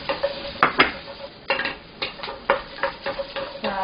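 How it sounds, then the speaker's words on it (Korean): Abalone stir-fried with onions in a pan makes rhythmic scraping and clinking of a utensil against metal over a light sizzle, close and steady. "양파 볶으시고 약간 투명해지고 양파 향이 좀 난다면 바로 전복 넣어줍니다"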